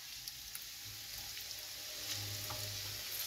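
Butter cube with half a lemon dropped into a hot pan while making shawarma: quiet, steady hiss of sizzling with a few soft pops and low rumbles, faint and continuous, no talk.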